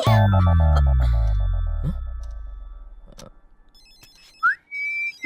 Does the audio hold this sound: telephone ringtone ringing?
yes